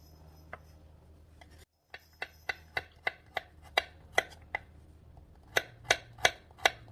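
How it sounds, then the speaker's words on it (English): A knife chops carrots on a cutting board with a run of crisp, close, evenly spaced strikes, about a dozen in all, after a brief pause near the start. No one talks. "Chop, chop, chop. Next, the carrots."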